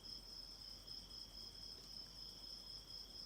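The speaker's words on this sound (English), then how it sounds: "Yes, the cricket sound. It's really relaxing." Crickets chirp in a steady, high, continuous trill, faint and unbroken over a quiet background with no voices.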